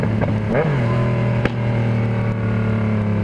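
A car exhaust revs up in a quick couple of bursts, then settles into a loud, steady, throaty drone close by, with one sharp pop partway through.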